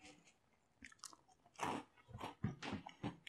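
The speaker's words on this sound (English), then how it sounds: "You probably hear the crunch." French Toast Crunch cereal is bitten and chewed close to the mic, crisp irregular crunches coming in quick bursts, faint at first and then louder and more frequent.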